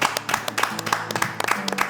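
A small group clapping for a guest at a French talk show, quick uneven claps in a brisk rhythm, fairly close and moderately loud, lasting only a moment.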